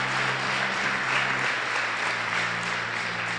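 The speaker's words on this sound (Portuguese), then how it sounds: "Put the hands together for Jesus." Church congregation applauding during a Portuguese-language sermon, steady sustained clapping from many hands filling the room, with no speech over it.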